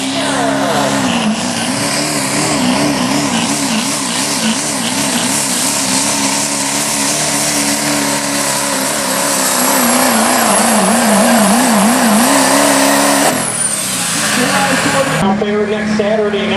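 A 2005 Chevy diesel pickup races in limited pro diesel truck competition at Oak Harbor, Ohio. Its engine roars loud and close throughout, rising and falling in pitch under a continuous announcer's voice.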